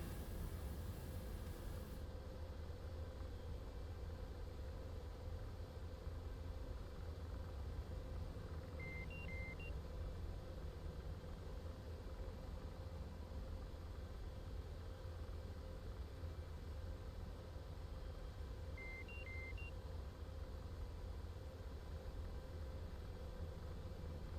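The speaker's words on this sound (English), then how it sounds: "What does the beep beep beep beep mean?" Repeated short electronic warning beeps inside an aircraft cockpit in the DCS World flight simulator, sounding as two brief bursts over a steady loud engine and wind roar.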